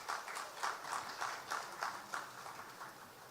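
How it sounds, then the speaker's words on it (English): An audience at a formal launch event in Ghana claps a speaker onto the stage: steady, rhythmic clapping at about three beats a second, moderately faint and slowly tapering, with no speech over it. "Please welcome him with a big round of applause."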